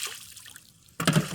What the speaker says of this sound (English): So when the cows pick their mouths up, they're always dripping water.